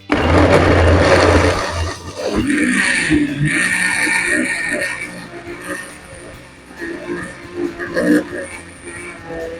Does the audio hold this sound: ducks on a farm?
no